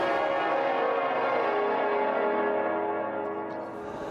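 Loud, resonant peal from the heavy bells of Liverpool Cathedral, a thick continuous clangour of overlapping strikes that begins to fade slightly near the end.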